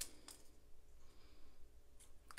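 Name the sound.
scissors cutting paper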